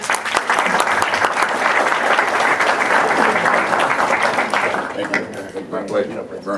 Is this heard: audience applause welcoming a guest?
yes